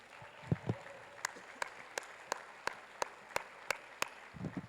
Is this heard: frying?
no